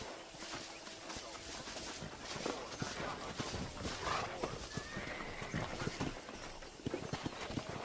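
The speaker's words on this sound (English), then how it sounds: "there's a pack of wild horses nearby." Wild horses in the video game Red Dead Redemption gallop with rapid clip-clop hoofbeats, and a horse whinnies partway through amid busy outdoor noise.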